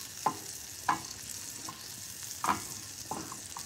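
Onions sautéing in a pan, a quiet steady sizzle broken by four evenly spaced spoon scrapes and taps, close and without talk.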